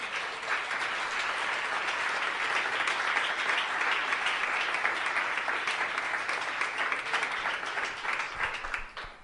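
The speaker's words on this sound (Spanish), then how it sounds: "¿Alguien puede darle un aplauso al Señor en esta noche?" A church congregation gives a sustained round of applause for the Lord during an evening service, dense steady clapping filling the room for the whole stretch and tapering slightly at the end.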